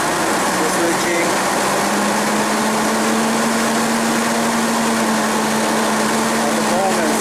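A Hyster forklift engine runs loud and close with a steady broadband roar and a sustained droning hum, held at raised revs on the accelerator pedal with little change over about seven seconds.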